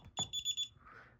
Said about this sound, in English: a video of me going all over the buzzer pitches on this Neo